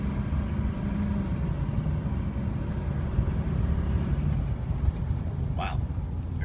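A 2006 Chevy Silverado LBZ 4x4 pickup cruises along, its low, steady drivetrain and road rumble holding evenly throughout, fairly quiet and smooth, with a brief faint squeak near the end.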